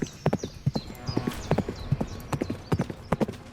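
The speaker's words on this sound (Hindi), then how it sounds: "अपना घोड़ा दौड़ाता हुआ उस घने जंगल में घुस गया" A horse gallops into a dense forest as a story sound effect: loud, close, quick rhythmic hoofbeats with a brief whinny, alone without speech.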